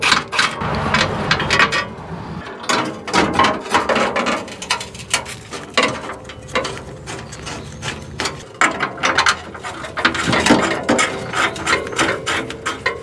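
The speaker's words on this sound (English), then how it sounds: "So we need to take out these 14mm bolts." Hand ratchet clicking rapidly while backing out 14mm bolts from a catalytic converter shield on the underside of a Toyota Land Cruiser, a close, continuous train of sharp pawl clicks with brief pauses in between.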